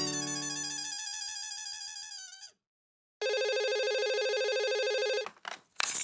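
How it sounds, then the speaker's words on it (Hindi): A telephone rings with a loud electronic ringtone in two bursts separated by a short silence, with no voices over it, in a Hindi TV comedy scene set in a housing society. "मैं सबको फोन करके बुला लेता हूँ"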